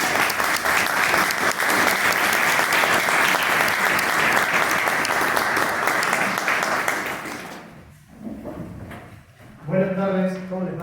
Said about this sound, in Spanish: espero que tengan ahora el placer y el honor de recibirlo con un fuerte aplauso